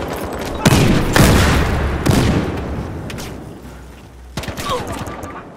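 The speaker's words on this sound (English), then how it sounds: "Go, go, grenade!" A grenade explosion and gunfire in Battlefield Hardline: loud booms and rapid shots crowd together, then fade into a rumbling tail before a few more cracks near the end.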